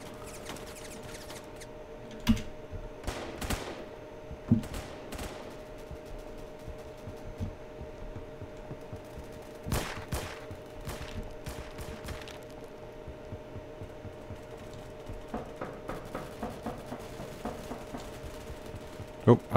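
Gunfire in the Roblox game Phantom Forces, scattered single shots and quick rapid bursts, moderately loud, mixed with a player talking over the action.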